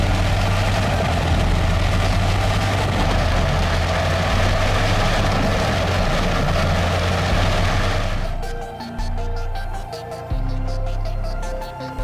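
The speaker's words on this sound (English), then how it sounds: "The engine roars, the gears spin strongly, creating a breathtaking sight of modern industrial power without stopping" A giant MNJ 4000 green waste and stump shredder with a 1,500 horsepower engine roars continuously and loudly while its gears spin crushing logs. Partway through, the dense rumble thins into a lower, steadier mechanical drone.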